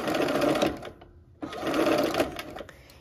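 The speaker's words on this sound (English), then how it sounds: "Let's go ahead and sew these curves on." Sewing machine stitching curved seams on a quilt block, two bursts of rapid mechanical whirring separated by a short pause, close and clear.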